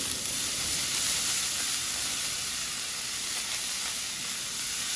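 Butter sizzles and hisses steadily in a hot preheated pan for ackee and saltfish, a close, continuous bright crackle with no pauses.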